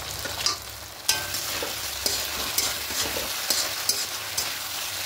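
Bitter gourd tossed into hot spices in a pan, sizzling steadily with close scrapes and clacks of a spatula stirring at a loose rhythm, no voices.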